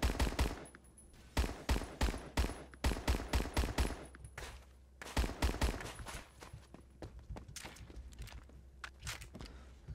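PPSH-41 submachine gun in Roblox Phantom Forces fires in rapid automatic bursts, several sharp loud strings of shots separated by short pauses, with footsteps between bursts.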